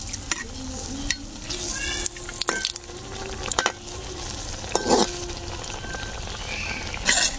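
Palm molpua pitha fry in hot oil with a continuous bubbling sizzle, broken by sharp clinks and scrapes of a utensil at the pan; no voice is heard.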